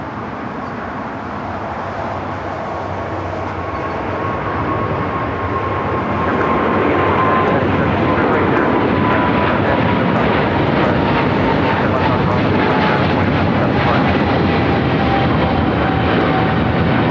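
An Air France airliner taxis toward the west gates at LAX, its engines giving a steady, loud whine and rumble that swells partway through and holds, with faint background voices.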